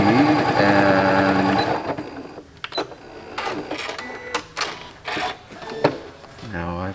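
A sewing machine runs fast and steady, stitching in the ditch along quilt block seams, then stops and gives way to a few clicks and handling sounds while a person speaks briefly.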